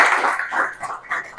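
Classroom applause, a short burst of many hands clapping together, bright and fairly close, with a few quicker claps near the end.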